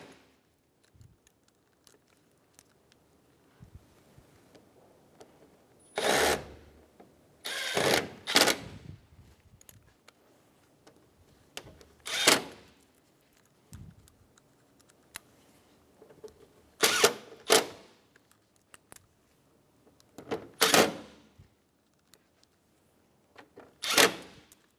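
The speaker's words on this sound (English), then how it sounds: "Install the Phillips head screws." A powered screwdriver drives Phillips head screws into the front lower grille of a Chevrolet Sonic, sounding as short, loud whirring bursts in pairs and singles, separated by quiet pauses.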